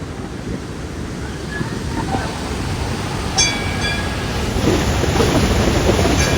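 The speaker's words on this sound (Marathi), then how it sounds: "इकडे सरस्वती नदी वाहते" Fast-flowing Saraswati river at Mana village, a loud, steady roar of rushing water filling the whole clip without a break.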